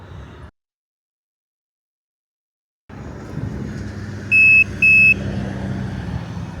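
A LoRa pocket messenger's attached buzzer sounds two short, loud, evenly spaced electronic beeps on receiving a message, over a low rumble of traffic after a brief silence.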